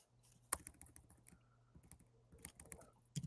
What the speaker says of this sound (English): Let me type in Bellevue.